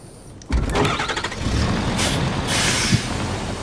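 Truck engine starting in the Fortnite video game: an abrupt loud crank and catch after a brief quiet, then a steady rumbling idle with a hiss of air brakes and a short clunk.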